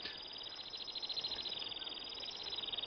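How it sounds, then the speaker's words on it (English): A Temminck's stint sings in flight over open Arctic tundra, a long, continuous high trilling song with rapid pulsing notes, fairly close and clear above a soft background hiss. "As there are no trees on the tundra, many birds sing in the sky. This is Temminck's stint."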